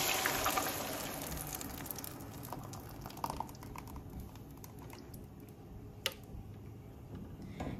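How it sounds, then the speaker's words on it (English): Oil crackles and sizzles in a pan with scattered small pops over a quiet steady hiss, close up, with no voices. "You put in the oil and you start hearing it sizzle like that."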